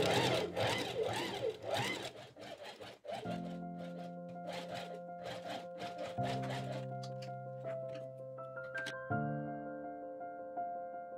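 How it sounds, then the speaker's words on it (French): A sewing machine runs in several bursts as it stitches a fabric tube closed, made from an upcycled men's shirt, each run a steady mechanical whir with rapid needle rhythm and short pauses between. "L'étape suivante sera de coudre pour fermer le tuyau."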